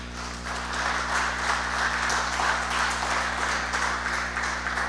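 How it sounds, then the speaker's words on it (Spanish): A church congregation claps in praise during a sermon, a steady ripple of hand claps rising after a moment and holding over a constant low electrical hum. "Dele un aplauso de alabanza"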